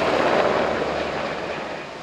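Sikorsky helicopter flying low, roughly 100–200 metres above the Gullfoss gorge viewpoint, producing a loud, steady broadband roar that fades slightly.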